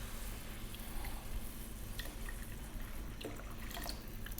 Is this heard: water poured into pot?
yes